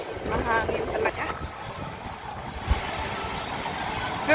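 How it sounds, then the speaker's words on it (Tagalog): Strong outdoor wind gusts buffet the microphone near Ocean Park, a steady low rumble with louder bursts at the start and end, while a person talks over it. "Mahangin talaga."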